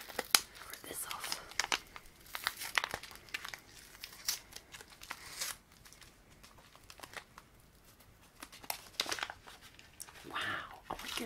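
A candy package wrapper is torn open and crinkled in close, crisp bursts of crackling and ripping, with a soft voice speaking over parts of it.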